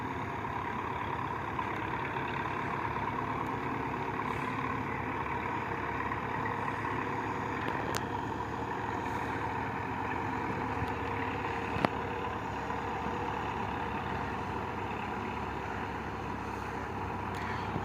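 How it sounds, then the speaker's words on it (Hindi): A Belarus 510 tractor hauling a fully loaded trolley of river soil near a bridge over a small dry river, heard as a steady, continuous low engine drone at moderate distance with no talking. "वेख रहे हो ट्रैक्टर आ रहा है दरिया चो मिट्टी लैके 510 बलारस"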